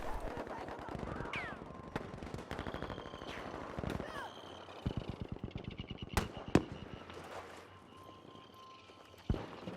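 A Lewis gun machine gun firing in a World War I video game match, rapid rhythmic bursts of shots at middle distance mixed with other gunfire, under a commentator's talk.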